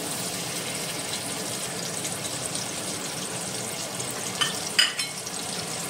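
Sliced onions frying in four tablespoons of oil for a Goan mutton xacuti: a steady, even hiss of sizzling oil throughout, with a few brief stirring clatters near the end and no voices.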